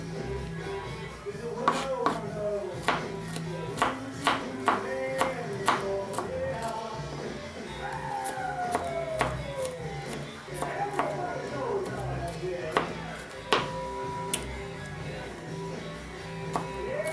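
A knife chops garlic for spaghetti sauce on a board, sharp close knocks in quick irregular bursts, with voices talking between and over the chops.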